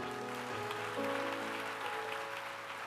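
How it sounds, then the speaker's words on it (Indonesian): Applause in a church congregation during a sermon, a steady wash of clapping with sustained musical tones underneath throughout. "Oh, harusnya kasih tepuk tangan itu"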